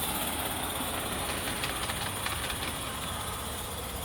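An Accucraft live steam 2-6-2 model locomotive runs on gentle throttle, giving a steady, broad hiss of steam with a faint chuffing texture, close and continuous throughout.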